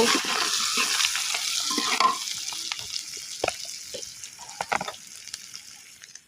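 Spices and sliced turmeric root sizzle in a hot pan while being stirred, a steady bright frying hiss with soft scraping strokes that thins out toward the end.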